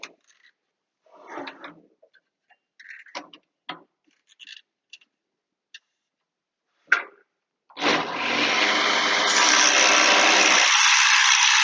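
A rotary planer takes a lighter cut across a wooden board, starting with a few scattered taps and scrapes before settling into a loud, steady whirring cut that runs to the end.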